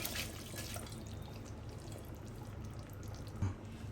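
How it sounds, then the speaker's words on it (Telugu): Soaked rice tipped into a boiling pot of gongura chicken pulao, giving a steady close watery rush and bubbling with a brief louder splash near the end, with no talking. "ఇప్పుడైతే మనం డైరెక్ట్గా రైస్ని అయితే వేసేసుకుందాం"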